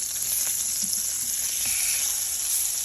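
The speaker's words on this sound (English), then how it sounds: "So our butter is nice and hot. I am just going to simply place the salmon" Hot butter in a pan gives off a steady, close sizzle and hiss as salmon is laid in to sear, with a few faint knocks underneath and no talking.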